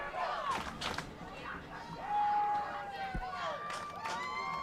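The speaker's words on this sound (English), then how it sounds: "Crowd trying to get into it here with the help of the cheerleaders." Fans at a high school football game yell and cheer with cheerleaders leading them, a lively but somewhat distant crowd roar with shouted calls rising and falling, while a voice talks over it.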